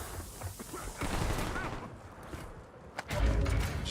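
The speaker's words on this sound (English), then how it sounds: "The hell is that, dude? Like a cluster grenade or whatever?" Cluster grenade blasts in a shooter video game go off as a rapid string of sharp pops and thuds, followed by a heavier low boom near the end, over quieter game background.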